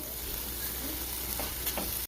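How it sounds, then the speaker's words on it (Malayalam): Prawns are stirred in a pan while cooking a Kerala-style prawn roast, giving a steady, soft sizzle and faint scraping throughout, with a couple of brief stirring scrapes near the end. "നല്ലോണം മിക്സ് ചെയ്യാം."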